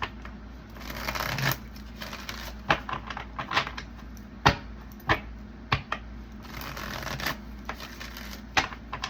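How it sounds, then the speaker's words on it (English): Tarot cards are shuffled repeatedly up close, with a riffling rustle broken by sharp snapping bursts as the deck is bridged and squared, no voices. "A few more shuffles, guys."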